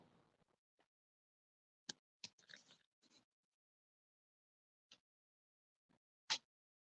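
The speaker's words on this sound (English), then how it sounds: "Y'all hear that little crunching noise? That's his little Nyla bone." Small dog gnawing a Nylabone chew toy, a handful of sharp isolated crunches and bites spaced irregularly over several seconds, close and quiet with silence between.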